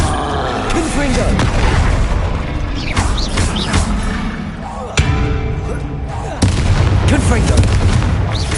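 Confringo fire spells blasting during combat in the Hogwarts Legacy video game, a dense run of booming impacts over busy game sound, with a speaking voice throughout.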